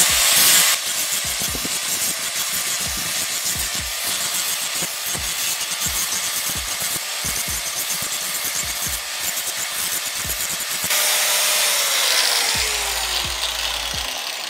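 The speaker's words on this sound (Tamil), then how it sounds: "வெட்டி எடுத்துட்டு கிரைண்டரால் இங்கே என்ன செய்யணும்னா துப்புறது" An electric grinder smooths a hand-carved wooden ladle, giving a continuous abrasive whir with rhythmic scraping pulses as the tool works across the wood, loud and close, before the motor winds down near the end.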